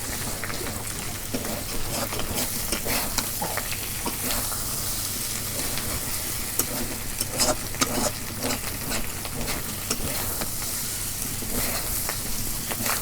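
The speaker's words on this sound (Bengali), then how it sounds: "এই দেখো ভাজা হয়ে আইতেছে কড়াই" Beef tripe frying in a wok gives a steady, close sizzle with crackling pops and occasional stirring scrapes, constant throughout.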